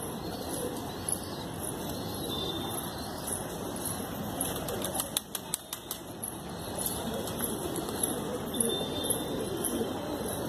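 Desi high flyer pigeons coo softly in a loft at a seller's place in Dombivali, Mumbai. Low cooing runs underneath a steady background hiss, with a brief metallic rattle midway and a voice talking.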